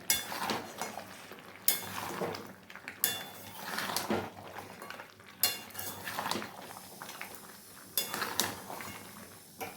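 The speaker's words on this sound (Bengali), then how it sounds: "চলো তাহলে আমি আসছি একটু কষিয়ে নিই" Mutton and potato curry with spices is sautéed in a pot, a spoon scraping and clinking in steady repeated strokes over a low sizzle, fairly close and without talk.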